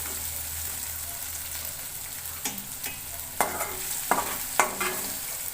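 Onions fry in a pan with a steady, moderate sizzle, broken by several sharp scraping stirs toward the end.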